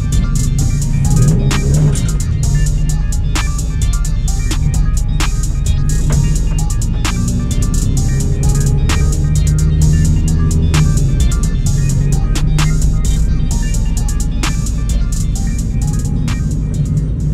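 A car running a 100-shot nitrous kit, its engine droning loud and steady inside the cabin with a constant low rumble and rhythmic ticking clicks.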